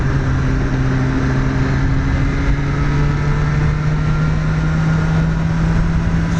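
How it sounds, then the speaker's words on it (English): The exhaust of a BMW S 1000 R motorcycle on the move gives a steady droning engine note that rises gently in pitch, heard continuously amid wind rush with no speech. "the sound of the exhaust is not as awesome as on the other one, but it's not bad"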